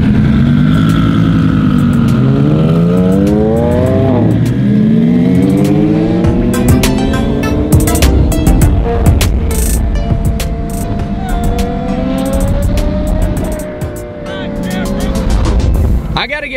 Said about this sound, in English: This is a ridiculous convoy of cars right now.